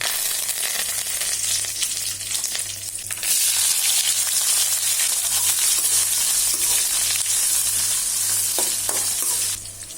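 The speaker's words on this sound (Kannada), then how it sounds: "ಈಗ ಒಗ್ಗರಣೆಗೆ ಬಾಣಲೆಯಲ್ಲಿ ಸ್ವಲ್ಪ ಎಣ್ಣೆ ತಗೊಂಡು ಅದಕ್ಕೆ ಸಾಸಿವೆ, ಉದ್ದಿನ ಬೇಳೆ, ಕೆಂಪು ಮೆಣಸು ಹಾಗೆ ಕರಿಬೇವು ಹಾಕಿ ನಂತರ ಈರುಳ್ಳಿಯನ್ನು ಹಾಕ್ತಾ ಇದ್ದೇನೆ" Onions hit hot oil in a pan already crackling with mustard seeds, urad dal, red chilli and curry leaves, tempering for a ridge gourd curry; a steady, loud sizzle swells as they go in and runs on alone.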